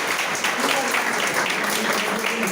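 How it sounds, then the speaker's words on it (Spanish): A church conference audience applauds members of the Adoración Nocturna, a nocturnal adoration group, with a moderate, steady wash of clapping over a short stretch and some voices mixed in. "Les damos también un aplauso"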